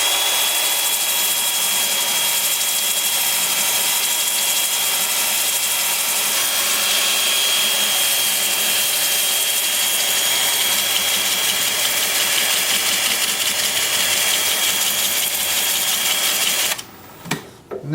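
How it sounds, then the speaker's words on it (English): A wood lathe turns a plum blank in reverse at about 350 rpm, its motor giving a steady, loud, even whir with a high whine for most of the time before it cuts off abruptly near the end. "with the lathe spinning in reverse at about 350"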